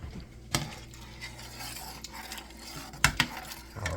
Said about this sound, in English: Stir that in there real good